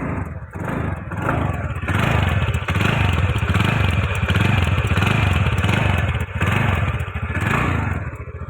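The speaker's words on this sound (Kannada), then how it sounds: "ರಫ್ ಸೌಂಡು ಈ ಗಾಡಿ ಸ್ಪೆಷಾಲಿಟಿ." A 125cc BS4 sports motorcycle engine running with a rough, clattery tone, loud and close, idling unevenly with a few brief dips and rises in revs over several seconds.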